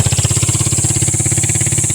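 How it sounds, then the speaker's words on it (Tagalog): A motorcycle engine throbs loud and close in a fast, regular pulse that stays steady for the whole two seconds. "Gulat ako doon sa motor."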